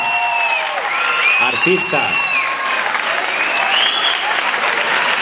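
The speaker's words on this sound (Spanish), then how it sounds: "Un aplauso grande." Loud, steady applause from a crowd at a secondary school graduation fills the whole stretch, with a person speaking briefly over the clapping.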